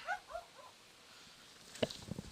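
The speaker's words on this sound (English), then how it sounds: "sorry about the background noise, is these dogs out here." Dogs outdoors give a few short whimpers and yips early on, then a brief bark-like burst near the end, faint and somewhat distant against background hiss.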